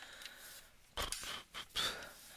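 Scissors trimming paper pieces for a handmade album, a few short, close, quiet snipping cuts separated by brief pauses.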